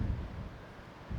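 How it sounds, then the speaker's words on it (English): Strong wind at Navagio Beach, Zakynthos, buffets the microphone in deep blustery gusts that swell at the start and end. "it wasn't this windy when we came"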